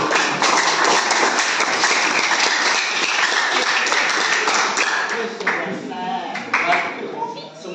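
A classroom of students clapping together for a group at the front, dense close applause that fades into scattered claps near the end, with voices mixed in.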